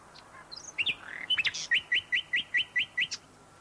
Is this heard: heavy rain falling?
no